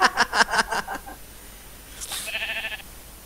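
A sheep bleats once in Minecraft, a short wavering call heard after a burst of rhythmic, clattering sounds at the start.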